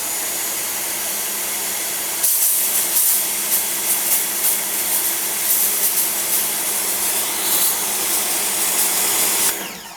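A Sun Joe electric pressure washer with its original hose, gun and nozzle sprays at 1600 PSI, a steady loud whining hiss that surges brighter after a couple of seconds and cuts off near the end.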